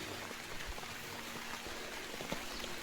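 Steady rain pattering down over a mulched chilli field, a dense, even hiss of drops close to the microphone with no voices.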